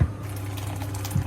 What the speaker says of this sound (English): We add 350 ml of hot water.